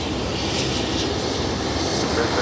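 A Global Express business jet approaching to land at Brisbane Airport, a steady broad engine roar that holds constant throughout, with faint background voices.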